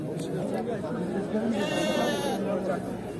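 Sheep bleat at a livestock market in Batken, with one drawn-out bleat standing out over a constant wash of crowd chatter and people talking nearby.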